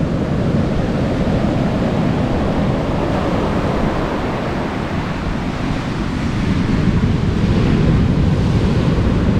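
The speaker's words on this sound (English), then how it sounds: "Yeah, some waves." Ocean waves roll in on a choppy beach in Acadia National Park, a constant broad wash of surf mixed with wind buffeting the microphone, loud and steady without voices.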